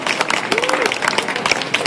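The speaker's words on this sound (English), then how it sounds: "big round of applause for these guys" An audience at a food show cooking competition claps and cheers in a lively, fairly close burst, with a voice calling out over the applause.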